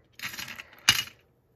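Decorative shabby chic keys are handled, giving a short run of light metallic jingling followed by a sharper, brighter clink, close by in a quiet room.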